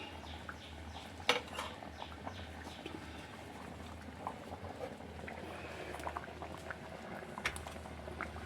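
A thickened curry of ivy gourd, prawns and dried prawns bubbling in a pot, with a constant soft simmer broken by a few sharp clinks of utensils against the vessel.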